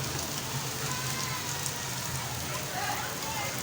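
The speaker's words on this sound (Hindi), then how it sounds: "इस वक्त तेज़ बारिश हो रही है।" Heavy rain pours onto a flooded street in Karachi, a dense, steady hiss of water that holds constant throughout.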